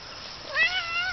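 A coon-hunting farm cat gives a single clear meow, rising then trailing off, close and alone.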